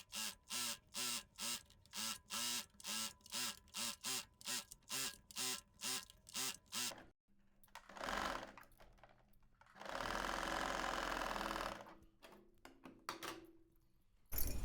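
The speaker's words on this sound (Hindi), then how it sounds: "अब इस पट्टी को हम यहाँ से खोल देंगे और ऊपर से पॉइंट की सिलाई लगाएंगे।" Sewing machine stitching a strip on an Anarkali kurti, first in short evenly spaced bursts of rapid clatter, then a quieter stretch and one longer continuous run, heard alone and close.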